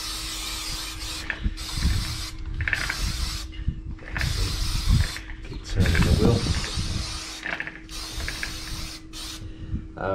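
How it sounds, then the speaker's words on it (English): Cleaner sprays onto a motorbike chain in repeated loud hissing bursts while the wheel turns on a stand, with creaking and rubbing mechanical sounds between and under the sprays, close up. "turn the wheel, give it a good spray."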